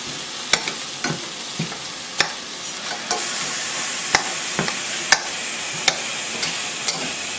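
Onions and mushrooms sizzle steadily in a pan for cheesesteak stuffed peppers, with a constant broadband hiss and sharp clicks of a utensil striking the pan at irregular intervals, close by and with no talking.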